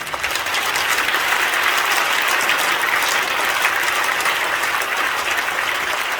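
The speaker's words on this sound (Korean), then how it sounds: "다시 한번 인사하실 때 뜨겁게 박수해 주시기 바랍니다" A large assembly of a church general conference applauds warmly as a candidate for general secretary bows in greeting; loud, sustained, even clapping from many hands continues throughout with no voices over it.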